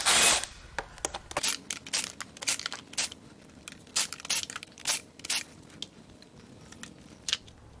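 Intake bolts come off a Cadillac Escalade Denali L94 6.2L engine during a teardown, heard as a quick string of sharp, irregular metallic clicks and ratchet snaps, fairly close and faint.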